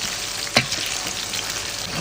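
Scallion, ginger and garlic hit hot vegetable oil in a pastoral grassland kitchen, giving a steady close sizzle and hiss broken by one sharp spitting pop, with no talking.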